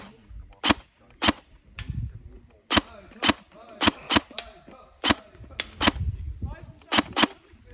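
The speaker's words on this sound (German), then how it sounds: "ich schieße jetzt mit der Novritsch so auf circa, ich denke mal, sind 30 Meter auf diese Büchsen" Novritsch SSR77 Steyr AUG A1 airsoft AEG fires 0.32 g BBs at cans about 30 metres away, giving a dozen or so sharp, snappy single shots in an uneven rhythm, with faint low handling noise between them.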